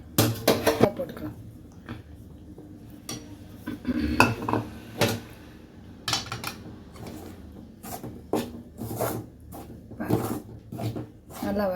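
Roasted gram flour is stirred into melted ghee in a metal pan, with repeated scraping and clanking of a spoon against the pan in irregular bursts while someone talks over it.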